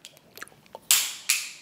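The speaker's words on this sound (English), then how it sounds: "Here goes another big bite." Two big bites of Prime-flavored jello, each a sharp, loud wet crunch-and-squish burst followed by fading chewing, with faint mouth sounds between them; close-up ASMR eating.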